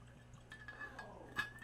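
Casa Noble tequila poured into a glass, a faint, soft liquid trickle with light glassy clinks, quiet and close in a still room.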